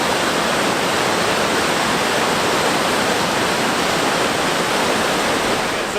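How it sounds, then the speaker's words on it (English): A small waterfall beside a house in Blagaj, Bosnia and Herzegovina, gives a steady, dense rush of falling water, loud and close, with no break for several seconds. "We have somewhat of a little waterfall with the house."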